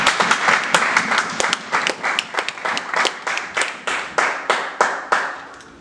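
A church congregation claps together during a Sunday worship service, a loud run of sharp, fairly even hand claps that keeps up steadily from start to finish with no talk over it.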